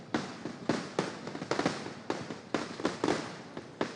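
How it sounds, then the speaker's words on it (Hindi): Fireworks at the Puttingal temple festival burst in rapid, irregular succession, a steady barrage of sharp cracks and booms heard from a moderate distance with no voices. "लगातार पटाखे फूटते रहे।"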